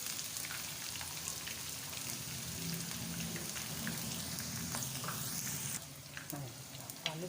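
Potatoes frying in oil, a dense steady crackling sizzle like rainfall that thins and drops quieter near the end, heard alone without voices.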